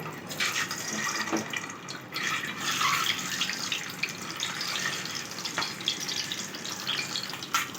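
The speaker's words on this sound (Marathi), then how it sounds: "त्यात अंडे थोडे सगळे टाकून फ्राय करून घेतले तेलात जरा." Eggs fry in hot oil in a pan, giving a steady crackling sizzle with scattered sharper pops and spits throughout, close and moderately loud.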